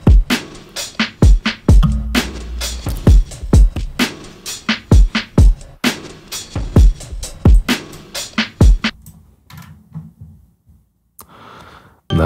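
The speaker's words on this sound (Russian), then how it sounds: "Давайте послушаем это все вместе, все ударные вместе." A hip-hop beat's drum loop and drums play together: punchy kicks, snappy snares and dense percussive hits in a steady rhythm, loud and close, thinning out near the end.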